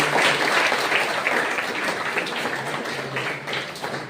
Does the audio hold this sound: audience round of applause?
yes